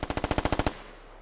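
Automatic gunfire in the video game Squad, a rapid burst of about eleven evenly spaced loud shots followed by a short fading tail.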